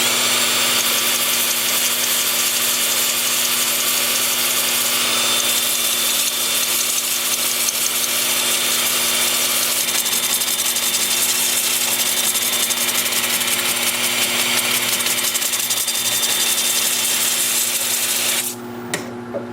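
Sycamore wood turns on a lathe with a steady, loud machine hum and a broad, continuous cutting hiss, ending abruptly near the close.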